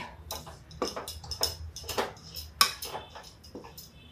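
Whole green mung beans dry-roasting in a kadai over low heat, stirred with a spoon: a string of light scraping clinks and rattles against the metal, irregular and close, with one sharper knock partway through.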